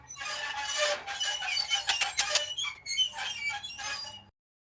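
Squeaky Earth-shaped toy squeezed repeatedly, a string of bright, close squeaks and squeals over about four seconds, ending abruptly in silence.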